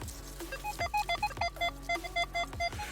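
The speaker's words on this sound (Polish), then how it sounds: "Króciutki monetkowy sygnał." A metal detector gives a rapid series of short, high electronic chirps and beeps on a coin, repeating irregularly with faint thumps and rustling underneath.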